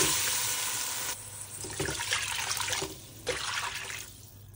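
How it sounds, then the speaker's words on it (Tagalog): Water pours from a vessel into a pot of browned lamb, a loud splashing gush that sizzles and comes in a few surges before trailing off. "We add on 4 cups of water."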